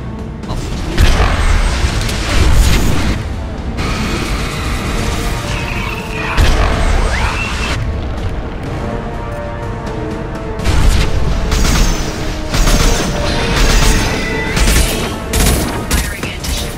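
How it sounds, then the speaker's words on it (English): Anti-ship batteries firing at a collector vessel in the video game Mass Effect 2 unleash loud, heavy barrages in several long bursts of booming fire, separated by brief lulls. "Firing anti-ship batteries at collector vessel"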